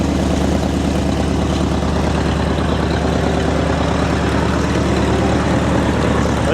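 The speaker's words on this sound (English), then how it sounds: "Got exhaust leak like crazy over here on the header." A 1977 Ford F100 truck engine idles loudly and close with a leaking exhaust header, a steady rumbling drone with a rapid ticking, puffing pulse running evenly throughout.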